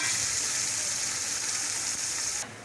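Minced meat frying with onions in a pan gives a steady, close hiss and sizzle that holds evenly and then drops off abruptly near the end.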